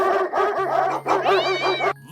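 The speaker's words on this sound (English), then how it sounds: "That's a lot of dogs. They seem to be chasing something." A pack of cartoon dogs barks in a chase, with rapid overlapping yapping barks and whimpers close up and loud, ending in a short electronic tone.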